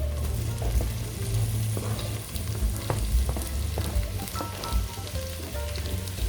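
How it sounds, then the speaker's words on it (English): Red peppers sizzle steadily in a hot pan while cooking for beans and rice, a continuous close frying crackle with faint stirring clicks. "Now we're going to add in our red pepper."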